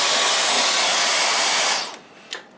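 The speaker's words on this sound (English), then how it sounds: "I'm just going to give that a quick hoover." Vacuum cleaner hoovering dust from inside a Toshiba rear projection TV: a steady, loud, close suction roar that cuts off near the end, followed by a brief knock.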